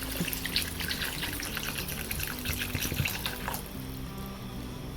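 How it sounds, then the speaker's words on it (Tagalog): Water pours steadily into a cooking pot for bas-uy, a Filipino beef and turmeric soup, with around six cups added in a continuous splashing stream that eases off near the end. "Mga 6 cups na tubig ang ilalagay po natin."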